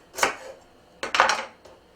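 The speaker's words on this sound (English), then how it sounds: "So I take a little paring knife and I cut off the whole outside of the stem" A small paring knife slicing the outer layer off an artichoke stem, giving two close, crisp cutting strokes about a second apart, with a faint third scrape at the end and no talking.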